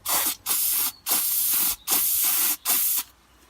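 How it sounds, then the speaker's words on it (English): Carb cleaner spray blasts in four short, loud, close bursts of hiss through the carburetor of a Honda HRH536 lawn mower, separated by brief pauses and ending in quiet. "I'm going to blast through it with the carb cleaner again."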